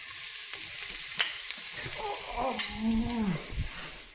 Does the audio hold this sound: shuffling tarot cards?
no